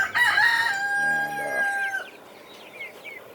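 Chickens cluck and a rooster crows loudly and close by, a long drawn-out crow followed by softer scattered clucks and chirps outdoors.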